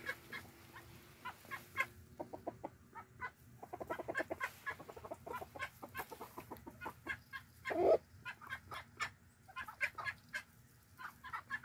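Backyard chickens cluck in short bursts and runs through a sunny winter garden, close and fairly loud against a steady low outdoor hum, with one louder squawk partway through.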